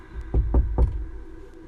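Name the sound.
knocking on a door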